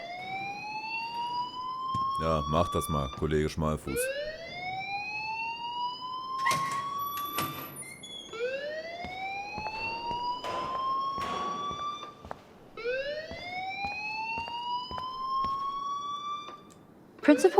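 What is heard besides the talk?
alarm ringing in the video game Life is Strange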